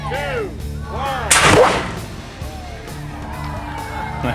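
One loud boom from a pumpkin cannon cuts through excited children's voices, followed by a decaying rush and scattered cheering and chatter from a small crowd outdoors.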